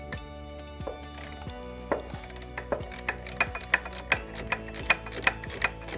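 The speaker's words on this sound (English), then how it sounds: "There's a bottom bolt here, size 14 for the alternator. Just going to loosen that." A ratchet wrench loosens the 14 mm bottom alternator bolt on a Hyundai i30 engine. A steady run of close, sharp metallic clicks grows louder and quicker toward the end.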